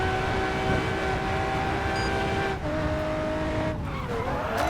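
A Lamborghini Reveton tuned to ECU stage 5 races in Racing Master. Its engine holds a steady loud tonal whine, and tires squeal as the pitch shifts and bends in the second half.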